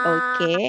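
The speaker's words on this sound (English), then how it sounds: "Okay, so this is what sheep sounds like." A sheep bleats twice in quick succession, close and loud, each wavering cry lasting a fraction of a second.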